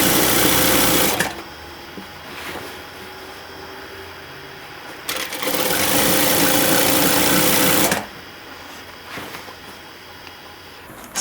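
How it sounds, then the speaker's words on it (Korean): Sewing machine stitching the side seam of a basic skirt, running in three loud, steady bursts separated by quieter pauses with light handling noise. "박아주시면 되겠습니다."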